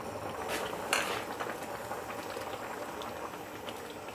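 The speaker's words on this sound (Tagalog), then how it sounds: "Takpan natin, hayaan natin kumulo." Molo soup simmering in a covered pot, a steady bubbling hiss of boiling liquid with a faint clink of the lid or utensils early on, close and alone.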